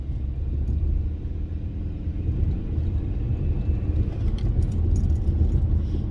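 A car accelerates strongly on a village road, its engine giving a steady, loud, low rumble with no pauses.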